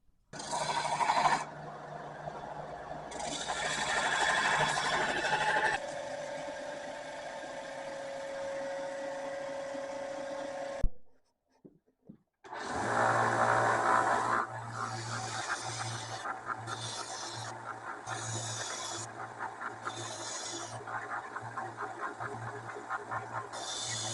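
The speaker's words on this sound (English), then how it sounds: "the next step will be on to a smaller belt sander" A smaller belt sander grinds down the scales, pins and adhesive of a custom harpoon clip knife, a loud steady abrasive whir in long passes that cuts out briefly near the middle and then resumes with the motor's low hum.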